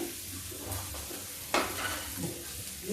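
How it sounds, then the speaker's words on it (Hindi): Onion, fenugreek, garlic, green chili and ginger fry together in a pan for a traditional Lucknow-style thali, giving a steady close sizzle with a sharp stir or scrape midway and faint kitchen clatter. "मेरा प्याज और ये मेथी, लहसुन, हरा मिर्चा, अदरक, ये सब कुछ साथ में भून रहा है।"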